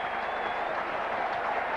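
Rugby league crowd at a Hull v Salford match applauding a kick, a steady broadband wash of clapping from a large stadium crowd, fairly distant and continuous throughout.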